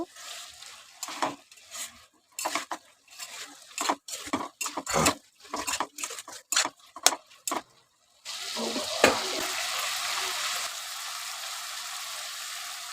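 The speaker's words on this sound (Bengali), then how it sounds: "এবার দিয়ে দিব আলু আলুগুলো একটু সুন্দর করে কষিয়ে নেব" Potatoes frying with a fish head in a pan, heard as bursts of stirring and scraping for about eight seconds before giving way to a steady, close, loud sizzle.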